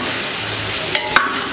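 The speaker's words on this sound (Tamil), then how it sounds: "வெங்காயம் ஓரளவுக்கு வதங்கின பிறகு அடிக்க வச்சுருக்க தக்காளியை ஃபுல்லாக போட்டுக்குவோம்" Tomatoes are added to softened onions frying in a pan for a garlic gravy, giving a low sizzle broken by two quick utensil scrapes and taps.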